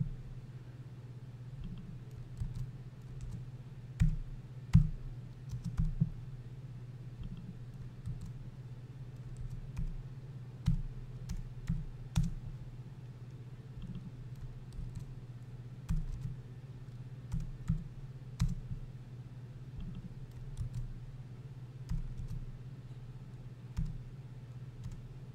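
Someone typing on a computer keyboard in irregular bursts of light clicks and taps with pauses between, close and fairly quiet over a steady low background hum.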